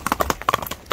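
A horse trots with quick, crisp hoof clip-clops, close and fairly loud, in a steady uneven rhythm with no voices over it.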